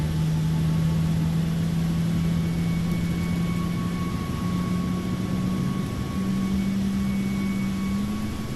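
Aircraft engine spooling up during an engine start in Microsoft Flight Simulator 2024, a steady droning hum with a rising tone, loud and continuous with no talk.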